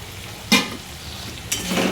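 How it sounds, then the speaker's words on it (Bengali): Okra tipped into hot oil and well-cooked spices for a home-style bhindi aloo sabji, a sudden burst of sizzle followed by a second stirring scrape and a steady frying hiss. "এবার আমি ভেন্ডিগুলো দিয়ে দেবো"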